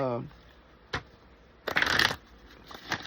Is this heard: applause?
no